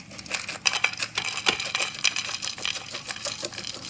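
Crispy homemade beetroot chips tumble onto a plate, a close rattle of light dry clatters and crunchy ticks in quick irregular succession over a few seconds, with no voices.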